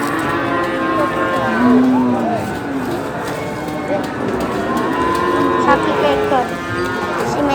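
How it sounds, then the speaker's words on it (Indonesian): Bull and other cattle mooing at a busy cattle market in Wirosari, several drawn-out lowing calls rising over a steady crowd murmur and nearby chatter, fairly close and loud throughout. "Ini ada sapi jantan."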